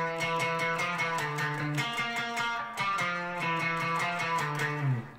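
An electric guitar plays a moving counterpoint line against a bass guitar, with clear pitched notes changing in a steady groove and no voices.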